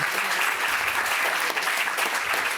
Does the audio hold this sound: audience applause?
yes